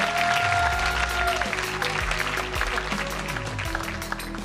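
Audience applause at an award presentation, steady clapping from a crowd that continues for several seconds, with a sustained music tone and low thumps layered underneath.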